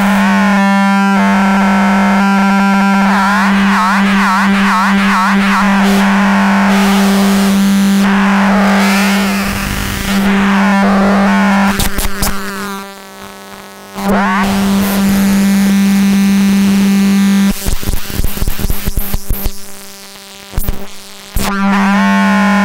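A modular synth patch built on Schlappi Engineering modules warps a single sine wave into a loud, continuous stream of distorted, buzzing, shifting tones with a steady low drone underneath and abrupt stutters and cut-outs near the end.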